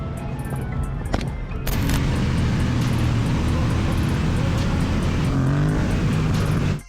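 A motorbike that caught fire and is having trouble, heard as steady close engine and roadside vehicle noise, loud and continuous with a few tonal hums, no talk over it.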